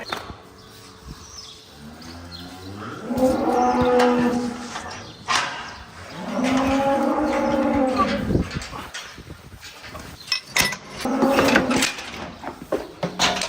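A frightened cow held for hoof treatment moos loudly several times in long, drawn-out calls close by, with clattering and shuffling between them.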